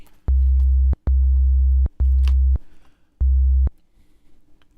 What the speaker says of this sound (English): switch over to a sine wave. We're going to go in the sub range